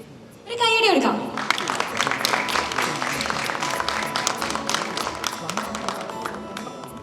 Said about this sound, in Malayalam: ഒരു കൈയടി എടുക്കാം